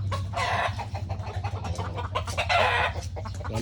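Several chickens cluck and squawk nearby in a busy, overlapping chatter, with a low steady hum underneath.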